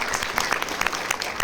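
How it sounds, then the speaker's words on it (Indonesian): An audience at a business presentation breaks into clapping, a dense flurry of many hands applauding at close range, with no voices over it. "Tepuk tangan untuk Atomi."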